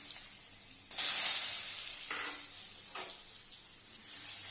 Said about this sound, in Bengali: এটা আলুটা লাল লাল করে ভেজে নেব